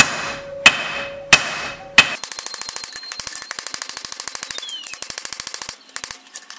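A hammer forges a blade heated in a charcoal forge: three loud, ringing single blows, then a rapid, steady run of close metallic strikes with brief pauses, near and alone.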